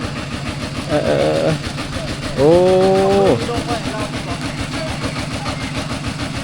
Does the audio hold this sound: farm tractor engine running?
yes